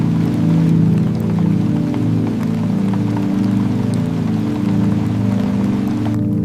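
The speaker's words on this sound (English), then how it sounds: "Raindrops were tapping softly against the cobblestones, steady and unhurried" Rain taps on cobblestones in a steady, dense patter, close and fairly loud, with a low sustained tonal drone running underneath the whole time.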